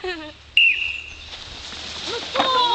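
A whistle is blown during an outdoor paddling game, giving one sudden, piercing, sustained blast over a background of voices and open-air noise.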